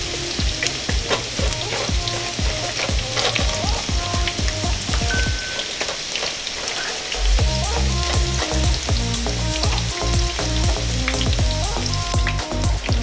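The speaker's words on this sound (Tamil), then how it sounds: "ஸோ நம்ம இப்போ வந்து காலிஃப்ளவர் ஃப்ரை ஆகிட்டு இருக்க டைமில்" Cauliflower pieces fry in oil for a restaurant-style gobi manchurian. The steady, loud bubbling crackle is dense with pops, and a tonal musical backdrop plays underneath.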